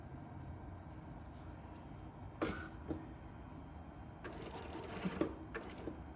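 A sewing machine stitching a gusset gives a few short, faint whirs and clicks in a quiet room, with brief taps and handling noises between them.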